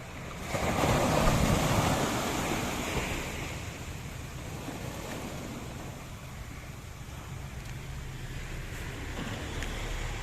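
Strong sea waves pound against shoreline rocks in a steady, broad roar, surging loudest early and then settling into a continuous wash, with wind buffeting the microphone throughout.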